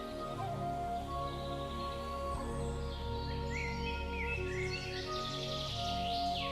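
Faint bird chirps and short calls drift from tall trees in a sacred grove, scattered over a steady low hum of background noise with no one speaking.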